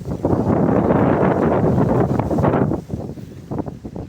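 Strong wind buffets an outdoor microphone near a fruit orchard in Thailand. It is loud and roaring for nearly three seconds, then drops to gusty, uneven puffs, with no talking.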